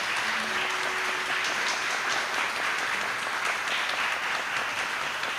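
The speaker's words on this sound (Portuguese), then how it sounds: "Vamos aplaudir Yasmin," A church congregation at a Sunday service applauds a young member, a steady, even wash of clapping from many hands at moderate volume throughout.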